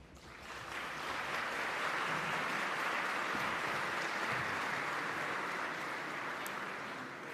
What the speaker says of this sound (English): Please, everyone, a round of applause.